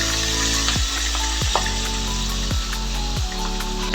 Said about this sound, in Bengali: কড়াইয়ে তেল দিলাম, আগে থেকে মাছগুলোকে নুন হলুদ মাখিয়ে রেখেছি, মাছগুলোকে ভেজে নিচ্ছি।